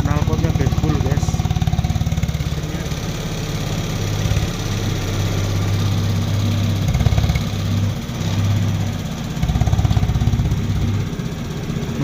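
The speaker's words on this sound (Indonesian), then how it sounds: "Wah, ini knalpotnya udah gaspol ya." A Kymco VJR motorcycle engine runs close by through its exhaust, a loud throbbing idle with several rises and falls as the throttle is blipped, while someone talks over it.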